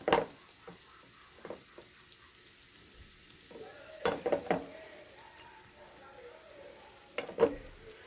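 Chopped garlic and onions frying in a pan, a low steady sizzle running throughout, broken by several louder clatters of stirring against the pan.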